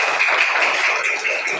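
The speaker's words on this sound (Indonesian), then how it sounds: "Tepuk tangan buat mereka." Dense, steady clapping from a classroom of students, a continuous patter of many hands held at an even level for the whole moment, no voices on top.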